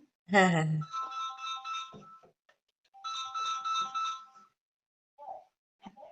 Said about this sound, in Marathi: एक मिनिट फोन आला